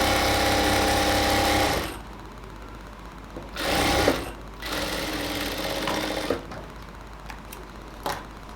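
A sewing machine runs a continuous stitching burst on a ladies' pant seam for about two seconds, then stops; short, quieter bursts and handling clicks follow.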